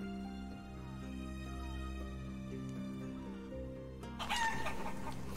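Chickens clucking steadily in the medieval survival game Life is Feudal: Forest Village, a farmyard flock over a constant low drone, with a brighter burst of squawking near the end.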